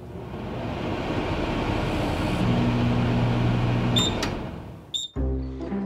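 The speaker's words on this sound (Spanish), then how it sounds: "Potencia máxima, 90 segundos. Voy al microondas y lo vemos." A microwave oven runs at maximum power cooking bread, a steady whirring drone with a faint hum, ending in a couple of sharp beeps and a clunk as the door opens.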